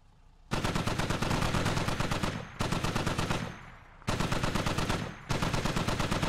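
Automatic gunfire in the military shooter game Squad, loud sustained bursts of rapid shots in three long strings separated by brief pauses, close and dominant.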